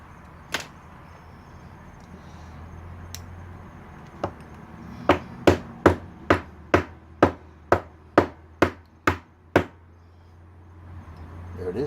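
A retaining pin is knocked out of a motorcycle gas cap lock with a run of about eleven sharp, evenly spaced metallic taps, preceded by a few scattered knocks, all close and clear.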